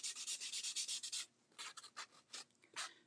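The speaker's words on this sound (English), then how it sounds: "So let me get my little sanding thingy right here. We're just going to rough the edges up" Steady back-and-forth scratchy strokes of sanding against wood, quick and rhythmic at first, then slower, more irregular rubs, close and fairly quiet.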